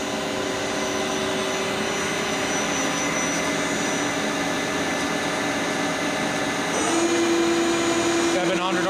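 A Lucas 542B-84 five-axis CNC table-type horizontal boring mill runs with its spindle at 600 RPM, giving a loud, steady whine with sustained tonal hum. Near the end the pitch shifts and a new tone settles in.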